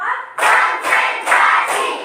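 A school class claps together in a steady rhythm, four bursts of many hands at once, loud and close with no talking.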